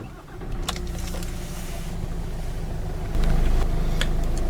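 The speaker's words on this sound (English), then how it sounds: "So just apply the foot brake and turn the key to start." A 2016 Kia Optima Platinum engine starts up, with a steady idle rumble that swells louder near the end and a few light clicks overhead; no one speaks.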